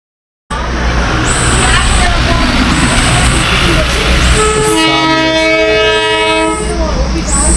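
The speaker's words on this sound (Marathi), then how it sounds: "toy train" A small Darjeeling toy train rumbles past up close, its horn sounding in several short and long blasts over the clatter of wheels, with voices nearby.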